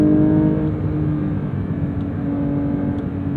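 A manual Porsche 992.1 GT3 drives along with a steady, loud exhaust drone heard from inside the car, a constant low rumble with no talking.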